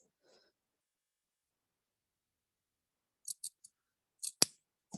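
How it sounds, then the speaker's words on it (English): Scissors snip through the seam allowance of a dress, a few sharp, close, quiet cuts in quick succession after a long silence. "I'm going to snip through my seam allowance over to that point"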